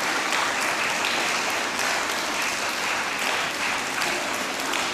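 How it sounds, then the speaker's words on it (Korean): A hall audience keeps clapping steadily as a children's choir leaves the stage at a song festival, continuous dense applause with no break and only faint murmuring beneath. "박수를 더 받고 나가려고 기다리고 있습니다."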